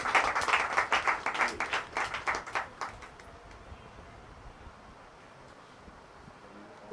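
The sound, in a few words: audience applauding loudly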